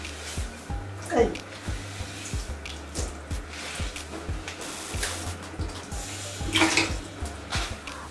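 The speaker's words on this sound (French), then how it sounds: "Et ensuite, on va rincer le shampoing bleu." Running water rinses blue shampoo out of a wig, a steady splashing flow with a regular pulsing rhythm underneath and brief voice sounds at moments.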